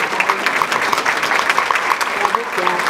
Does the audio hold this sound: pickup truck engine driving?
no